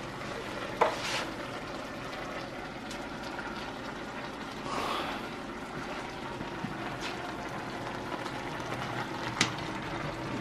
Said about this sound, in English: Cooking the hamburger.